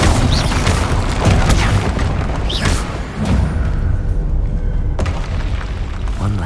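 Incendio fire spell cast in Hogwarts Legacy, a loud booming fiery burst amid dense continuous combat explosions and effects, with a sharp blast near the end.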